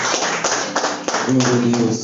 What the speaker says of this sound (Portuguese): Aplauda o Senhor com vocês o dia.